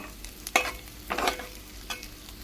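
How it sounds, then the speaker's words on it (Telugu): Fish eggs fry dry and crumbly in a pan, with a low sizzle under a few quick stirring scrapes, close and fairly quiet. "చూడండి, పొడి పొడిగా ఎలా ఫ్రై అవుతుందో మంచిగా."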